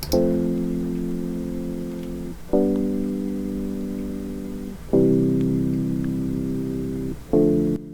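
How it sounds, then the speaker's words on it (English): A whirly electric keys patch in Ableton plays a chord progression of four long sustained chords, each one swelling in and held for about two seconds. There is no talking. "And then the next one was the whirly, so like another keys type for the chord progression"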